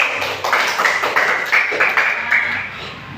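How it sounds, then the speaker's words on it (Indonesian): A classroom of students claps for a student group after their presentation, a dense spread of hand claps that rises and falls over a few seconds without stopping, moderately loud and close. "Tepuk tangan untuk kelompok tulip."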